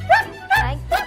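A Collie gives three quick, close, loud barks in an even rhythm.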